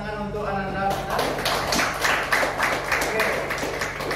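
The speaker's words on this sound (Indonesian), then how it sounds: "Semua tepuk tangan untuk Ananda" Students in a classroom break into a burst of rhythmic group clapping that continues for a few seconds after a teacher's voice.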